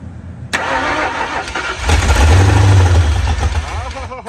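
A 1968 Ford Mustang engine cranks over and catches roughly on a dose of gas in the carburetor, a loud close rumble that swells and sputters, with people talking over it.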